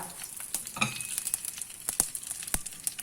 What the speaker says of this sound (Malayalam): നല്ലോണം ചൂടാകുമ്പോൾ നമ്മൾ ഒരു നുള്ള് കടുക്, 1/2 ടീസ്പൂൺ വീതം കടുകും ജീരകവും ഞാനിട്ടു. കറിവേപ്പില,